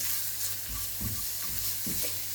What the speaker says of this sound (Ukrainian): Слідкуємо, щоб наш гарбузик не згорів, тому частенько перемішуємо.